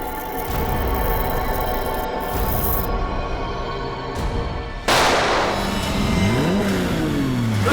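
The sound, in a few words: car engine revving as vehicle drives off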